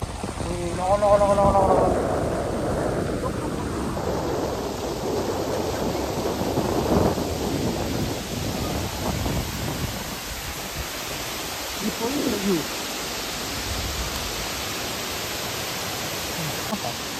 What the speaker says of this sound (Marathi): धबधबा छोटंसं वॉटरफॉल आहे तो. कारण पाऊस चालू आहे एवढा.